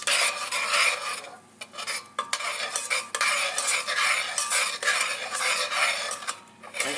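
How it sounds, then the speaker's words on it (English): Flour stirred constantly into melted butter to make a roux for béchamel sauce, with a continuous scraping and rasping of the utensil against the pan, close and fairly loud, in rhythmic strokes with brief pauses and no speech. "slowly put your flour in. And stir it constantly"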